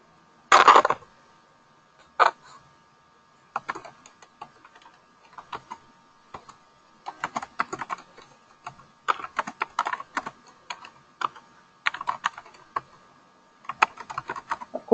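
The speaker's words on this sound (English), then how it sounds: "you're going to type something better than what I'm typing" Typing on a computer keyboard: close, irregular bursts of light key clicks with short pauses between them, heard alone in a quiet room.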